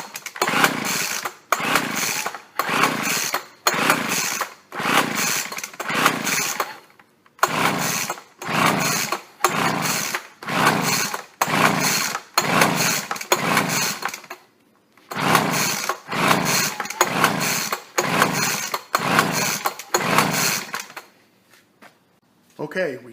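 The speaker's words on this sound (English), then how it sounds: "Let's pull sharply on the blower." Someone pull-starts a gas leaf blower again and again. Each pull gives a rhythmic series of short, loud ratcheting whooshes, broken by a few pauses, and the engine never catches.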